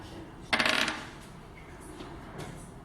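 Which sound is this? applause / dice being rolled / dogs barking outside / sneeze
dice being rolled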